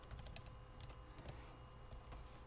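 Rapid, irregular keystrokes on a computer keyboard while Pandas code is entered, a steady near clatter of light clicks with no voices.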